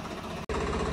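Swaraj 855 tractor engine running steadily at close range, a loud continuous rumble broken by a brief dropout midway before the same drone resumes.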